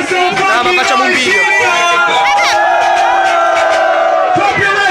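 Party crowd at a big summer bash at a lakeside sailing bar, cheering, whooping and shouting loudly and continuously, with rising yells and babble layered over the din.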